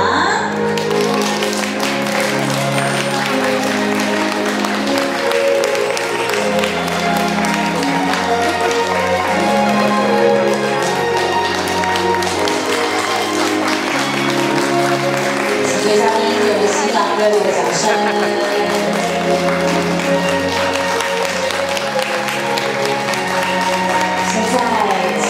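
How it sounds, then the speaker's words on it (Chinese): Wedding guests applaud warmly as the groom makes his entrance at a banquet, a dense, steady wash of clapping that lasts throughout, with music playing alongside. "请用您最热烈的掌声"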